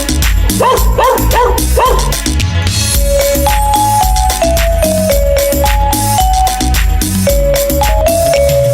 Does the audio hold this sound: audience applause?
no